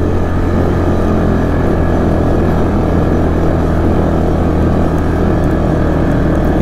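2006 Yamaha Kodiak 450 ATV engine screaming at high revs below full throttle, a loud, constant droning roar heard up close on a test drive with no letup and no voices.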